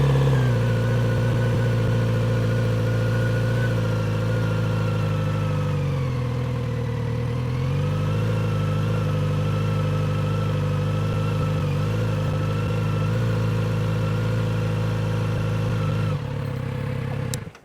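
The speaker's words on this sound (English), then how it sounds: "I release my foot from this rear brake and the motorcycle is going to want to start moving" A motorcycle begins rolling away as the rider lets off the rear brake during slow, full-lock turn practice. Its engine hums steadily and close for a long stretch with a slight dip in pitch, then fades near the end.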